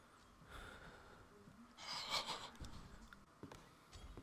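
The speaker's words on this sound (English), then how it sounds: "why he breathing like that?" An animatronic in a video game breathes heavily, with faint, raspy gasps and snorting exhales in an uneven rhythm, one louder wheezy breath in the middle, quiet and close.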